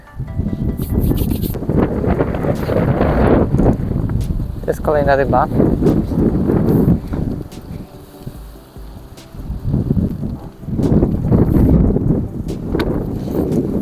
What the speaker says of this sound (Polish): Jest bardzo mocny boczny wiatr, który troszkę utrudnia wędkowanie.